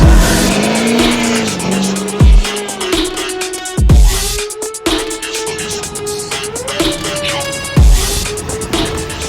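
Loud Duramax diesel pickup truck engine on nitrous revving hard in repeated surges, pitch climbing and dropping between sharp bursts, with a whistling, siren-like whine riding on top.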